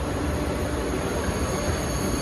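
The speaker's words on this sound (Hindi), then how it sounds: "ट्रेनों का आवाज़ तो आ रहा है फ़िलहाल" Trains rumble through Seoul railway station in South Korea, a dense, steady roar of rolling wheels and station noise with faint high whine, continuous throughout.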